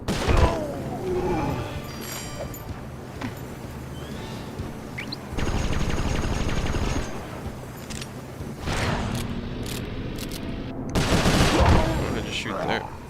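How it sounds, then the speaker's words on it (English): Rapid bursts of shock pistol fire ring out in Sly Cooper 4, coming in several clustered volleys with crashing impacts and thuds over a steady game backdrop. "4 shots with the shock pistol"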